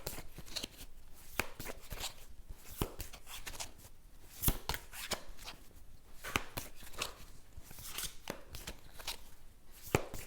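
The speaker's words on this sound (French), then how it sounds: "Je vais tirer une dernière carte" Tarot cards riffle and slap as they are shuffled and laid out during a reading, with a continuous run of close, soft flicks and sharper snaps over about ten seconds and no talking.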